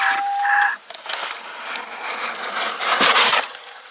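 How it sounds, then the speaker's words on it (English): Several large chickens newly brought home in a box cluck and squawk up close, with scratchy rustling and a short bright tone early on, loudest near the end; no talk. "They're very big chickens"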